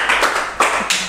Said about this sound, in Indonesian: berarti boleh tepuk tangan dong